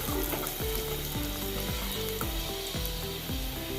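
Chopped onions with star anise, cinnamon and bay leaf fry in oil for a paneer vegetable pulao, giving a steady, close sizzle while being stirred, with a repeating musical loop playing underneath.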